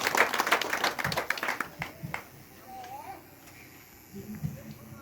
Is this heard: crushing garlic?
no